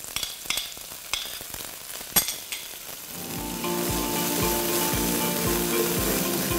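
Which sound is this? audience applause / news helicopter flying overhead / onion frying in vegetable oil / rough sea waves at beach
onion frying in vegetable oil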